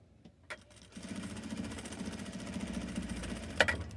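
Sewing machine stitches a dart in fabric with a backstitch, starting after a few clicks into a fast, steady chattering run, with a brief clunk near the end.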